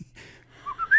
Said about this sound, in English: Oh, whistling